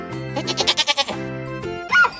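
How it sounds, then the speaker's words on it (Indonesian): A sheep bleats in several wavering, pulsing calls, close and clear, followed by a brief pause and a shorter second bleat, with no talk over it. "Domba."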